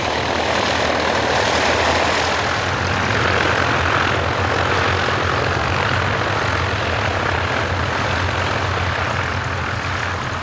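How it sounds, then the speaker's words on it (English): Engine of a 1930s Fokker airliner at London's Croydon Airport, a loud, continuous propeller drone heard close and unbroken throughout, with no voices over it. "This Fokker at London's Croydon Airport was a well-proven design that could be used for passengers or freight"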